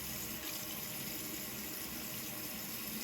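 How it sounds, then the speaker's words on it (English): Water pours steadily onto powder in a continuous rushing splash, close and fairly loud, with no talk. "And now I'm going to just put a little bit of water in there."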